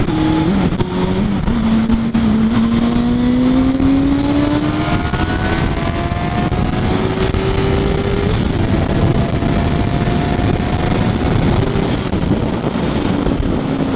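A Hornet motorcycle with a slipping clutch accelerates to overtake on a wet road, its engine note climbing steadily in pitch through a couple of rising pulls, close and loud beneath constant heavy wind rush.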